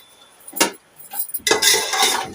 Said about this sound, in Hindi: अब मैं इसमें आलू शामिल करूंगी।